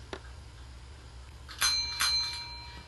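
A toy bell is rung twice in quick succession during a children's play session, bright metallic rings with a short decay, after a faint tap at the start.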